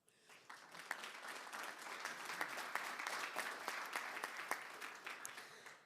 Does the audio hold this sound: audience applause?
yes